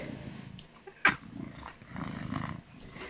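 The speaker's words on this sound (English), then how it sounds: "Oh, I hear the purrs." An old cat purrs close by, a low, rhythmic rumbling in soft pulses broken by a brief sharp click near the middle.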